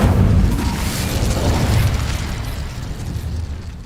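An Incendio fire spell bursts in the video game Hogwarts Legacy with a loud, roaring blast of flame that rumbles heavily at first, then slowly thins and fades over a few seconds.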